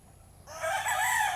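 A gamefowl rooster crows once, loud and close, after a brief quiet moment.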